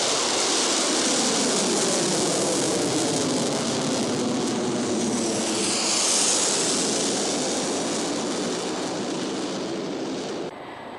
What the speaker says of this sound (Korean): 지금 조선노동당 창건 75돌 경축 열병식이 진행되는 수도 평양의 상공을 향하여 비행기들이 날아오르고 있습니다.